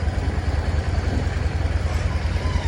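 A vehicle engine idles nearby on a street where police and gendarmerie vans are parked, giving a steady, close, low rumble that holds evenly throughout with no voices over it.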